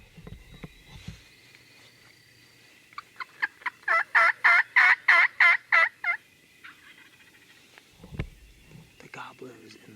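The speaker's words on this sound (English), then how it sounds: "hopefully he hears this hen or me" A wild turkey gobbles about 150 yards away, a rapid burst of about nine loud pulsing notes, with faint whispered talk and rustling before and after.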